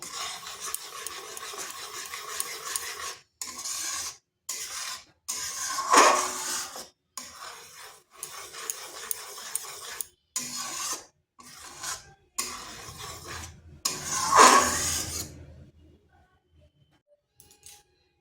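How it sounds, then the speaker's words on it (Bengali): Milk and palm fruit pulp are worked together by hand, producing repeated rasping, rubbing strokes in bursts separated by short pauses, fairly close and steady. "দুধ আর এই তালের প্রাণ ভালো করে মিশিয়ে নিচ্ছে"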